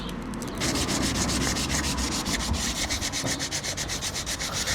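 Rough, rhythmic scraping of coarse sandpaper rubbed back and forth on a damaged, jagged car wheel rim, close and loud, with quick regular strokes.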